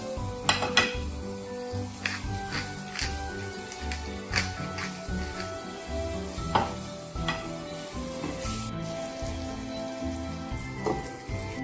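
Salmon fillet searing in a hot pan, a steady crackling sizzle throughout with occasional clinks of a utensil against the pan, close and moderately loud with no talking.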